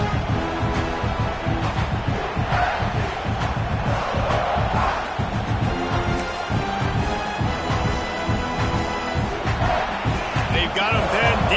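Crowd in a football stadium in a video game roars loud and unbroken, with a dense, sustained cheer filling the whole stretch while a voice talks over it.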